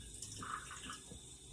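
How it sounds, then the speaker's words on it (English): A child splashing and playing with running tap water in a bathroom, faint trickling and splashing with small irregular bursts, quiet and close. "I'm here in the bathroom, Justine, playing with water."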